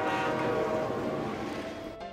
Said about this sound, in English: Yoo-hoo, we're going to sleep in the train. Wow, look how super fast we're going, Gaspard.